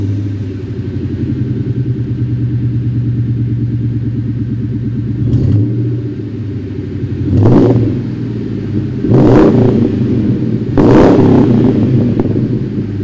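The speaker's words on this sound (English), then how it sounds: "It's a lot deeper than I thought it would be. It's got a really nice, deep, rich tone." A 1999 Mustang with a Borla S-Type Stinger stainless cat-back exhaust idles with a deep, steady rumble, then is revved in three or four sharp blips, each rising loudly and falling back to idle.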